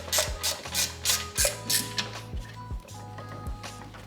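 Ratchet tightening bolts on a Kunray MY1020 motor mount of a Battle Aero drift kart, giving repeated close ratcheting strokes in a steady rhythm of about one pull every half second.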